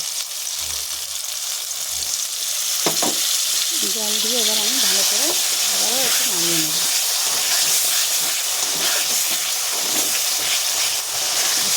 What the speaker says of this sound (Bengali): এখানে মশলাটা কষানোর জন্য আমি দিয়ে দেবো সামান্য জল